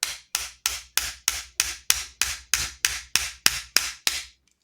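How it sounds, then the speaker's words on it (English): Twelve sharp metallic hammer taps strike a motorcycle brake disc lock at an even, brisk rhythm, close and clear, each ringing briefly before the next. "then we're just going to tap it with the hammer."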